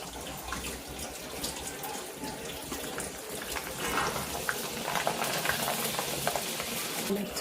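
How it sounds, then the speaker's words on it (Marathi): Rice papad fries in hot oil in a kadai, puffing up large and white, with a continuous crackling sizzle and scattered sharp pops throughout. "फक्त तांदळाचा जो पापड आहे तो तळून बघूया"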